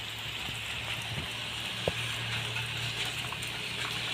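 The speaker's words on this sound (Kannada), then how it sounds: "ಮಳೆ ಯಾವ ರೀತಿ ಬರ್ತಾ ಇದೆ ತುಂಬಾ ಜೋರು ಆಗ್ತಾ ಇದೆ" Steady rain hisses on surfaces, a constant dense patter with a low hum underneath and a single sharp knock partway through.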